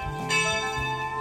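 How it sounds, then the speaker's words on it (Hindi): A church bell rings at a St. John's church before a Holy Communion service, giving a single loud strike with a long, sustained metallic ring close by. "बाल घंटी हो चुका है, ये दूसरी घंटी।"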